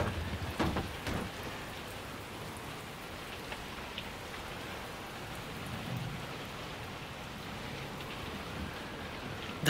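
Steady rain falls through the night outside a dark hut during a storm, a dense continuous hiss with a couple of brief brighter bursts near the start and no voices.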